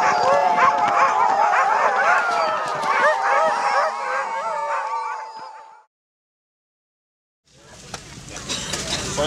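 Sled dogs in Greenland barking and yipping in a dense, overlapping chorus that runs loud and close, breaks off into a brief silence, then returns with more commotion.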